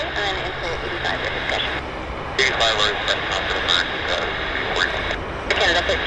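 Air Canada Airbus A321 jet at Vancouver Airport, its steady engine roar running continuously at moderate distance beneath nearly constant talk and radio chatter.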